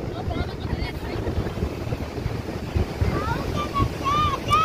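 Surf rolling onto a beach with steady broadband wash and wind buffeting the microphone, continuous and fairly loud, while voices talk faintly in the background near the end.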